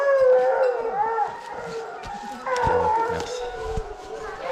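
Hunting dogs baying and howling during a hunt in the Corrèze countryside, drawn-out wavering cries from several dogs at middle distance, with a brief voice partway through.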